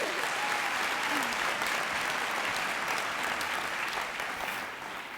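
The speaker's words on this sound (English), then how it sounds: "let's give a big round of applause for Keelan" Sustained, loud applause from an audience welcoming a student speaker at a 2020 awards evening. A dense, even wash of many hands clapping fills the whole stretch and eases slightly toward the end.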